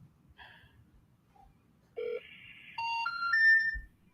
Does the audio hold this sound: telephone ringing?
yes